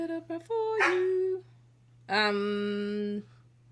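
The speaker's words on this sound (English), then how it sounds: "Before our dog absolutely goes nuts." A pet dog close by gives a few short yips, then two long, high whimpering whines separated by a pause, over a steady low hum.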